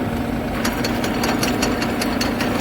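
A New Holland 5620 CRDI tractor engine runs steadily nearby with a constant low hum. A light mechanical clatter and rapid ticking sound over the hum, with no talk.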